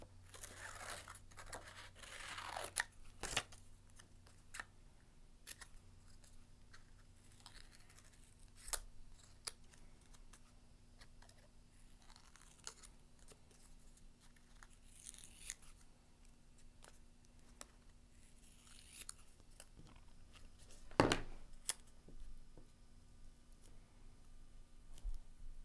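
Quiet scissors snipping paper to cut out a small heart for a decorative ribbon candy craft, with scattered close, soft cuts and crinkles against a near-silent background.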